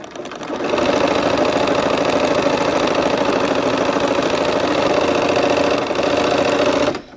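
A sewing machine runs continuously for several seconds stitching quilt triangle units, a fast, even mechanical whir and chatter of the needle, close and loud, starting up and stopping cleanly at the ends.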